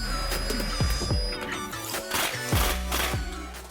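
A 13mm socket ratchet snugs up an exhaust band clamp on an aFe stainless cat-back system fitted to a Jeep Wrangler JL, with short bursts of close ratcheting clicks and metallic handling sounds.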